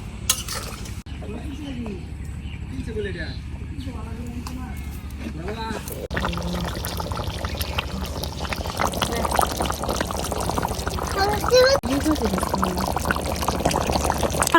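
Water is poured into a pan of cooking mutton curry, starting as gurgling splashes and then a steady louder bubbling sizzle with stirring, close up, while someone talks over it.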